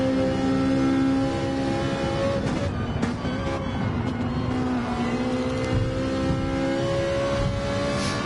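A race car in a PS4 racing game powers hard through the gears, its engine whine climbing and dropping with each shift, loud and sustained with no voices.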